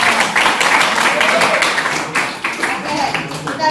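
A school class claps hands in a classroom in a dense, steady burst of many overlapping claps, close and fairly loud, with some voices mixed in beneath.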